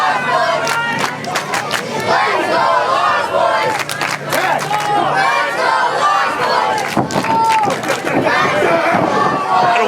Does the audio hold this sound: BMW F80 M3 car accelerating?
no